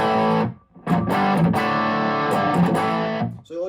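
Electric guitar played through a Hudson sidecar pedal into the front of an amp with no delay, a few distorted chords and sustained notes with brief gaps between strums.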